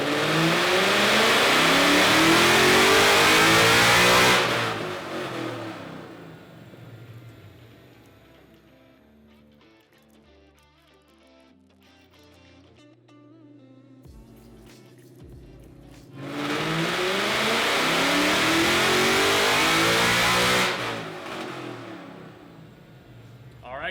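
Gen3R S197 stick-shift drag car on a dyno, its engine revving hard in two long, loud pulls separated by a quieter stretch of idle and mechanical clatter.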